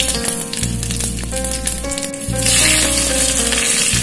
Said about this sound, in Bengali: প্রথমে লাল শুকনো লঙ্কা দেওয়া হলো, এরপর তেজপাতা দেওয়া হলো, 5 ফোড়ন দিয়ে দেওয়া হচ্ছে